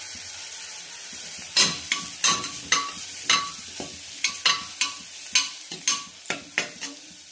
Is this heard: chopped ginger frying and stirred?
yes